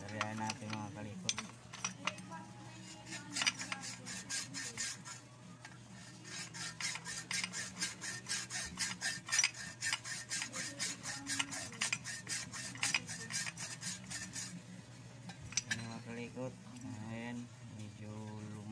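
Steady scraping and rasping from sanding dust off Kawasaki 175 motorcycle brake parts runs for most of the stretch, faint and close, with a rapid irregular rhythm and a low hum underneath.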